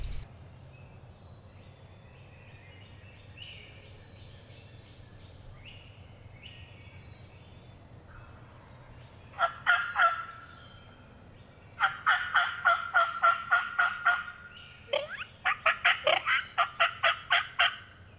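A wild turkey gobbler gobbles repeatedly at a spot near a mineral lick, with bursts of rapid, rattling calls coming in three clear volleys over a low steady background hum, fairly close and loud.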